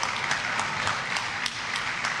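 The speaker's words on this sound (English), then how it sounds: "these are all people that are clapping" Crowd applause at a political rally, a dense steady wash of many hands clapping throughout, loud and continuous with no pauses.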